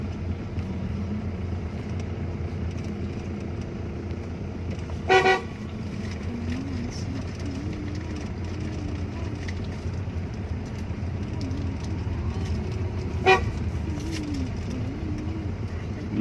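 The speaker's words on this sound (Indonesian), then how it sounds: "Kita yang penting rajin klakson" Two short, loud car horn toots on a road near Lake Toba, Indonesia, heard over a steady engine drone inside a vehicle, with a faint bird cooing in the background.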